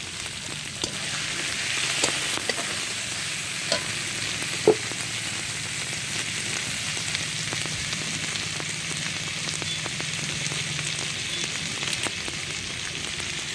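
Green chillies fry in a pan with tiger prawns, a steady, close crackling sizzle like light rain, with a few faint clicks and taps of a utensil scattered throughout and no voices.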